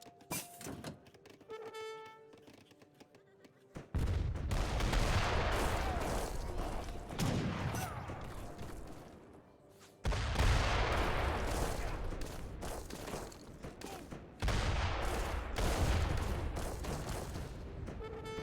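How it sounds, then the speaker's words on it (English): Heavy artillery fire in an Age of Empires III battle, booming volleys arriving in several loud waves after a quieter opening, each blast rumbling and fading before the next. "So much goddamn artillery."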